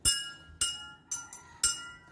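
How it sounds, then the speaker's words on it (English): Glass cups holding different amounts of water are struck one at a time like a xylophone, giving five clear ringing clinks at a steady pace, each with a bright tone that fades quickly. "this glass cup with the least water has the highest pitch"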